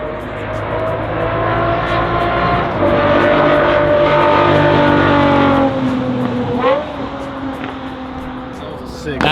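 A Pagani Zonda supercar engine at a car show booth, loud and close, a sustained throaty roar whose pitch rises and dips, with voices faintly underneath.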